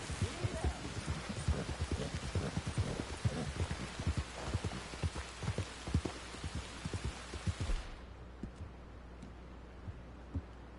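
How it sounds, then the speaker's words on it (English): Video game rain patters densely with many close drops, then thins abruptly to scattered, quieter drips near the end. "Here comes the rain."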